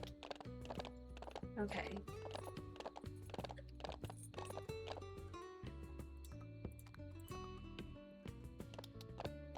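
Waffle, a bald-faced horse in The Ranch of Rivershine, clip-clops in a steady run of hoof knocks with a brief whinny, set against light game music and a short spoken word.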